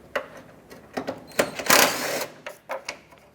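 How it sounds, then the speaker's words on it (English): A tool works a 10mm grille bolt loose on a Chevrolet Express van, a few close, sharp ratcheting clicks and clacks with a brief rattling burst in the middle. "I'm gonna have to remove the grill 10mm bolt over here, and another one on the other side."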